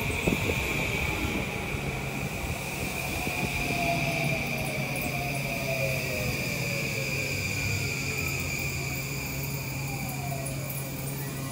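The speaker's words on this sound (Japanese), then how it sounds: "東京行きが参ります。" A JR East E235 series 1000 electric commuter train on the Sobu Rapid/Yokosuka Line glides into a station with a steady hum and a high whine that slowly falls in pitch, rolling continuously without pause.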